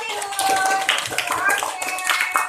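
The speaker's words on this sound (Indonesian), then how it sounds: "tepuk tangan untuk Fatihun" Schoolchildren in a classroom clap for a classmate, a short burst of scattered, uneven hand claps mixed with children's voices talking over it.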